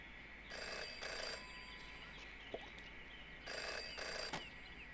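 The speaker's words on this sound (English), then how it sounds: "Jenny had learned never to ignore a ringing phone." Telephone bell ringing in the detective video game Jenny LeClue: Detectivu, two bursts of rapid trilling rings separated by a pause, fairly loud and alone with no talk.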